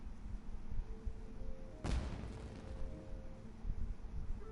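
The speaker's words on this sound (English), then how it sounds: "It sounded like fireworks." A firework goes off in a video game: a single sharp, loud bang about two seconds in, followed by a crackling, fading tail over a steady low rumble of background game sound.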